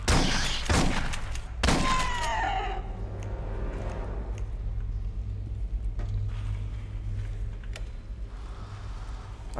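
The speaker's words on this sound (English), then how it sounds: "Alright, shotgun time." Two heavy shotgun blasts from the sci-fi shooter Aliens: Colonial Marines boom in quick succession, with a shrill, falling creature screech after them, then a low, steady rumble of game ambience.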